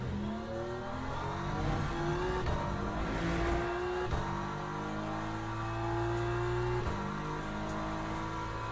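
A race car in the racing game Le Mans Ultimate at Monza accelerates hard, its loud engine note climbing steadily and dropping sharply at each upshift, with faint tire noise underneath.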